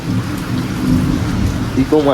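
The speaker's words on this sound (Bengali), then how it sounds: "এই যে বৃষ্টি নামছে" Heavy rain pours down in a dense, steady roar close by, with a voice starting to speak just at the end.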